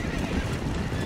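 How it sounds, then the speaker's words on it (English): A horse's hooves clip-clop at a steady gallop in the Red Dead Redemption game, a close, continuous pounding with snorts and whinnies mixed in, and a voice talking briefly underneath. "I am riding the horse."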